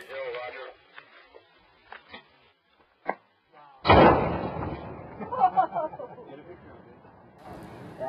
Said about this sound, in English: putting one of my favorite substances, C4, on it, and prepping it for blow